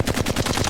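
Rapid automatic gunfire from the Apex Legends video game, a dense string of close, loud shots at a fast, even rate, with no voices.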